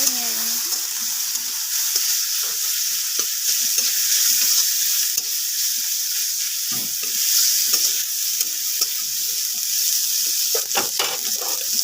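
Mola fish frying with turmeric in a pan gives off a steady, loud sizzle, with scattered scraping strokes of a stirring utensil throughout.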